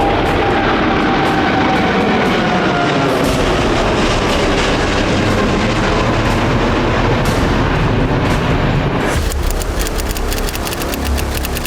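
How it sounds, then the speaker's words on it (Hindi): Loud, continuous roar of the Boeing 777 engines on the American presidential aircraft, a dense broadband rumble lasting throughout with a sharper, more textured shift near the end and no talk. "ये अमेरिकी राष्ट्रपति के विमान बोइंग 777 की ताकत है।"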